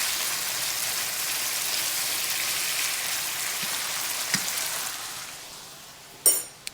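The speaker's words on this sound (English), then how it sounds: "Hear it sizzling?" Steady hissing crackle of food frying in a pan, continuous and close, fading slightly near the end with a couple of clinks.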